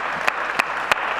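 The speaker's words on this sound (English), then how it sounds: "I think we should give them a huge round of applause" Audience applause at a festival closing session, a dense steady patter of many hands clapping with a few sharper claps standing out, brief and continuous.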